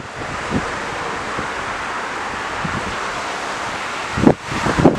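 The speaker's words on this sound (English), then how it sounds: "It's very windy." Wind blows steadily with a rushing, roaring noise during a Toyota 86 club drive at Kleinmond, buffeting the microphone in stronger gusts near the end.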